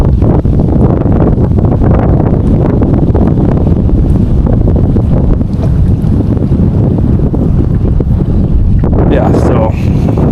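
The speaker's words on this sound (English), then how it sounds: "the wind is really taking stuff" Strong wind gusting at a fly-fishing spot for bluegills, a loud, continuous roar buffeting close against the microphone for the whole stretch.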